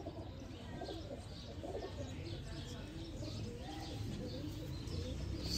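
Sialkoti pigeons kept in a loft coo softly and repeatedly with a few chirps, faint against a steady background hiss, while a person speaks quietly at times.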